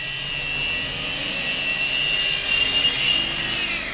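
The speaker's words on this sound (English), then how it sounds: "And that concludes it for the HG08 remote control helicopter." A small HG08 remote control helicopter hovers and flies, its electric rotor motor giving a steady, loud high-pitched whine with bright overtones that holds evenly throughout with no talking.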